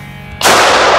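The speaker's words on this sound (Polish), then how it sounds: "Czysty strzał." Kalashnikov rifle fired on an outdoor shooting range: a single, very loud, close-up shot bursts out after a quiet moment and rings on as a dense, roaring blast.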